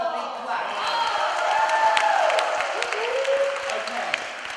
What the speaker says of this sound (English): Let's give Hong a big clap.